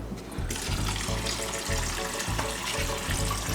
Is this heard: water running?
yes